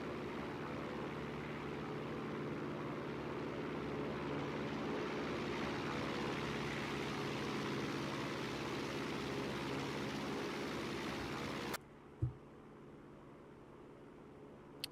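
A light aircraft makes a close, steady flyby in the X-Plane 12 flight simulator, its engine drone filling the first twelve seconds before cutting off abruptly, followed by a brief thump and near quiet.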